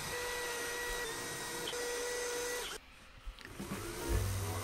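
An electric drill bores small shelf-support holes into a wooden DIY shelf, a steady high whine that runs for nearly three seconds, then stops and leaves quiet handling noises.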